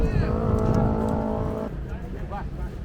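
A bus engine at a terminal in Indonesia runs steadily, a deep rumble with tonal whine that drops at the end as revs fall, heard close with people talking over it.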